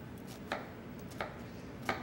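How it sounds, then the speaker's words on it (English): A knife chops through an onion on a cutting board with three sharp, evenly spaced thuds over a quiet background. "let's get this other onion done real fast here"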